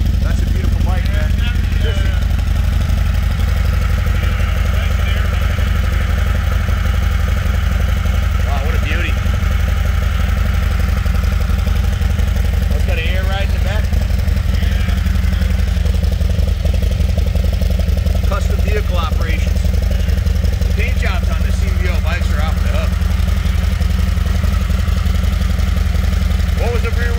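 A Harley-Davidson V-twin motorcycle engine runs continuously at a Birmingham, Alabama shop, a loud, close, low rumble under steady conversation.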